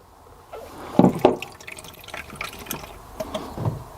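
Water runs from a pipe pulled off a 12V submersible pump and falls into a bucket, with splashing spurts around the one-second mark and then a steady, dripping trickle close to the mic.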